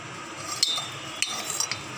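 A cooking vessel greased with ghee while making milk cake, giving a few light, close metallic clinks and scrapes of utensil against the vessel in otherwise quiet kitchen surroundings.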